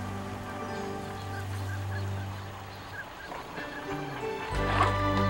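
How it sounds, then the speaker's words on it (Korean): Swans calling on a lake in late winter, several honking, goose-like calls layered over a steady low hum, moderately close, with a louder cluster of calls toward the end. "곧 시베리아로 떠나야 할 고니가 부지런히 수초 뿌리를 찾는다."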